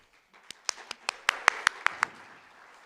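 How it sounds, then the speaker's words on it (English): Scattered claps from a small audience at a conference talk, about nine sharp, separate claps in under two seconds, fairly soft and spaced rather than a full ovation. "You're clapping and you don't even know if it's going to be good or bad yet"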